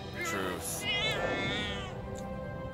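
A cartoon cat in the South Park: The Stick of Truth video game meows in a few drawn-out, wavering cries that run together over a couple of seconds, loud and close against a busy game soundtrack.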